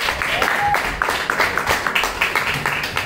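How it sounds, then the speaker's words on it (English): An audience applauds at a small poetry event, a steady patter of clapping from a modest crowd, close and fairly loud, with a short whistle near the start. "Another round of applause for him."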